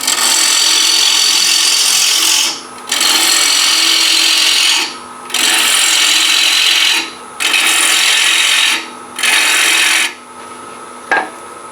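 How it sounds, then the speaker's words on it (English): A wood lathe turns a bowl blank held in one-way jaws, a loud close rasping hiss of the tool cutting wood, broken by several short pauses as the cut stops and starts. "let me stop the lathe here"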